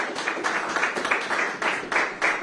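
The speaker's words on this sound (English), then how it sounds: "give a round of applause to" A round of applause at a virtual opening of a Chinese Canadian Museum exhibition in Victoria, with steady rhythmic clapping from a small group heard fairly close, no voices over it.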